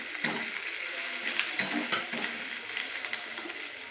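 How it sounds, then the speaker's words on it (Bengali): An egg goes into a pan of frying chowmein vegetables with chopped carrot, giving a continuous hissing sizzle and occasional light stirring scrapes and taps, close and steady. "এটার মধ্যে দিয়ে দিলাম এবার ডিমটা।"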